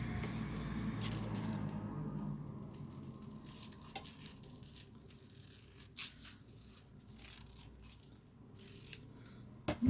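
Craft foil sheet is trimmed by hand for foiling with embossing folders, producing a few sparse, crisp snips and rustles over a low background hum.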